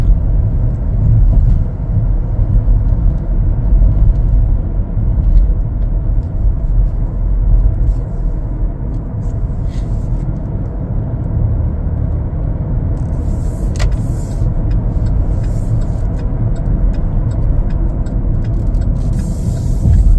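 A 2024 Chevrolet Blazer 3LT drives along a road, its cabin filled with a loud, steady low rumble of road and engine noise throughout, with a few faint clicks near the end.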